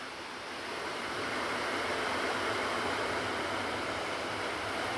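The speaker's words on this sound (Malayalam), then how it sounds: "മഴ പെയ്യുന്ന സൗണ്ട് നിങ്ങൾക്ക് കേൾക്കാൻ പറ്റുന്നുണ്ടോ?" Rain starting up again over a Kerala garden gives a steady broadband wash that swells slightly after the first second, then holds even and continuous with no voices.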